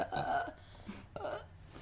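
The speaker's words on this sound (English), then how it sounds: "See how I burped inside myself?" A short, muffled burp, followed moments later by a second low gulping burp, close and fairly quiet.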